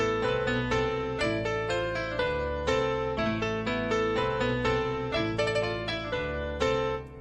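A dark FL Studio sample melody plays on its own, the piano and dark score removed, leaving a dense, sustained layered synth line with steady note changes throughout, fairly loud and continuous with no voices.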